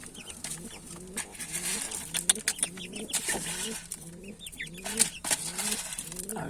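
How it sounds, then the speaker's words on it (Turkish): Several pigeons coo in low, repeated rolling calls close by, overlapping continuously with some soft clucking and chirps around them. "Bunlar güvercinler, civcivler."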